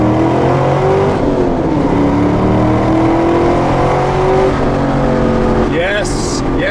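A 2002 Pontiac Firebird Trans Am V8 engine revs loudly and steadily for several seconds, pitch rising and falling with the throttle, with a brief higher whine near the end.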